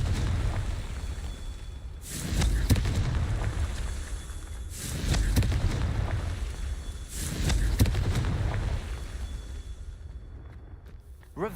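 Confringo blasting spell in the Hogwarts Legacy video game, heard as three loud whooshing bursts spaced a few seconds apart over low rumbling ambience.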